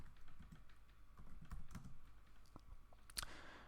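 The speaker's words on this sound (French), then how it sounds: "on va mettre ajouter du titre ici et je vais taper" Keys on a computer keyboard clatter in quick irregular bursts while a title is typed into a social media post design, ending with a sharper louder keystroke cluster near the close, with no voices.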